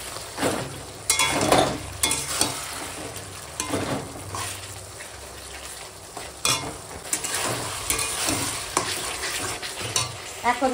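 Tomato mixed with raisins, pitted dates and sauce is stirred in a hot pan, a spoon scraping and clinking in repeated strokes over a steady sizzle, close and moderately loud, with no voices.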